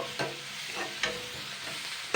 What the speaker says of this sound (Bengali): আমি এই মশলাগুলোকে দুই থেকে তিন মিনিট ভেজে নেব